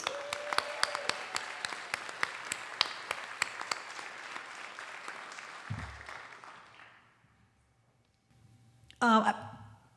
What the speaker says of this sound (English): one more round of applause for our neighborhood volunteers